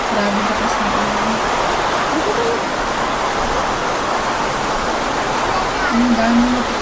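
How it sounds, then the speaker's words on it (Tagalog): Heavy rain pours in a dense, steady roar that never lets up, with faint voices murmuring beneath the downpour. "Grabe lakas ng ulan."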